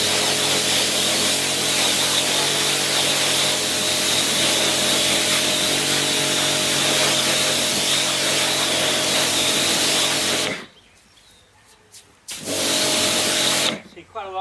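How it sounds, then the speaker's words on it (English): A pressure washer blasts a koi pond filter with a loud, steady hiss of spraying water for about ten seconds, stops briefly, then starts again. "all that I do is blast it with a pressure washer"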